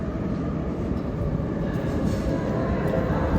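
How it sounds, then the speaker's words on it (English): Metro train passing through a station in Minsk, a loud, steady low rumble and rolling wheel noise that fills the whole stretch without a break. "How cool is this metro station?"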